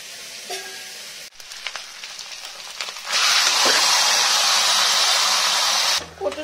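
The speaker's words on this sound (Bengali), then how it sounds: "রসুনটা ভাজা হয়ে গেছে" Garlic fries in a pan: a few soft clinks and a low hiss at first, then a loud, steady sizzle swells up, holds for about three seconds and suddenly cuts off.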